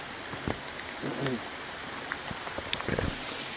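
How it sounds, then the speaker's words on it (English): Heavy rain pours down steadily outdoors at a wooded rocky den, a dense constant hiss with scattered louder drops, while a few brief voices speak faintly underneath. "Rain is coming down way too hard"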